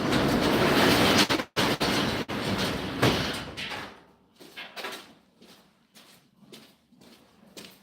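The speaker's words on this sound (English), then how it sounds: "Close our door there, keep some heat in here." A door is pulled shut to keep heat in on a cold morning. Loud rustling and movement give way to a couple of sharp thuds, then a series of quieter knocks and clicks in a calmer space.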